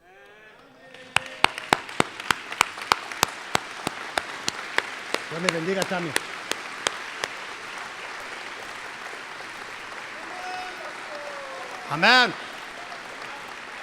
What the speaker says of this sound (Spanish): creo que sería bueno si nos pongamos de pie y damos un aplauso a un varón de Dios